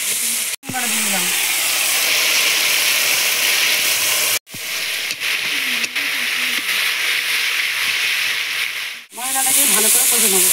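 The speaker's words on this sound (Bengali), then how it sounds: "মশলাটাকে ভালো করে কষে নেবো" A spice paste of chili, turmeric, cumin powder and salt fries in oil for a rohu-style fish curry, giving a steady close sizzle. Short gaps and scraping stir noises break it up, and a faint voice comes in now and then.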